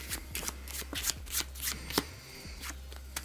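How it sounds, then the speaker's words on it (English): Playing cards riffled in a quick overhand shuffle, a series of soft papery bursts in uneven rhythm, close by, with a low steady hum underneath. "That is just a overhand shuffle."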